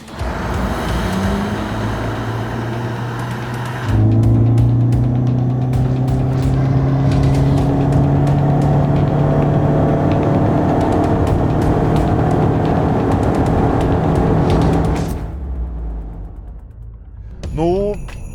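A Toyota Corolla GR Sport engine roars as it accelerates hard from 0 to 100 km/h, pitch climbing through several gear changes before easing off and fading to a low idle.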